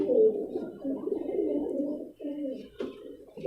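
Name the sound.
pigeon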